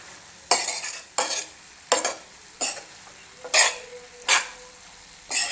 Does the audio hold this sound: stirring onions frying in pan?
yes